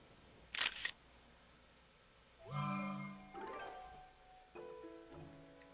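A camera shutter clicks while snapping a picture of a horse in Zelda: Tears of the Kingdom. A short burst of noise comes first, then bright chiming tones follow and fade out, with no talking.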